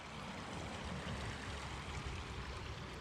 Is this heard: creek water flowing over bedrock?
yes